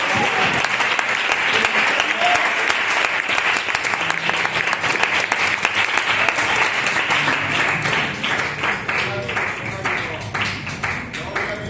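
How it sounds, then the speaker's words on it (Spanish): A church congregation bursts into loud, dense applause that carries on steadily, with voices mixed into the clapping throughout. "Un aplauso y que la bendición del Señor esté con todos"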